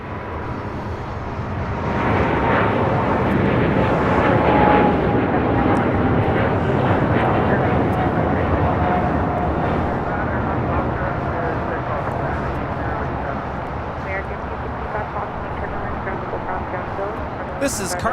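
A Boeing 777 cargo freighter takes off from LAX, its engines a broad, rising roar heard at a distance, with faint talk over the top.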